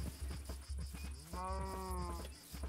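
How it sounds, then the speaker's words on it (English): A single drawn-out cow moo from a Minecraft farm animal in the Enigmatica 6 modpack, clear and prominent over steady game background noise and soft repeated thumps. "Got our cows."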